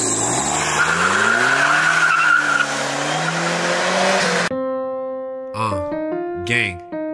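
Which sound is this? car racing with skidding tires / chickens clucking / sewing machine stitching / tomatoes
car racing with skidding tires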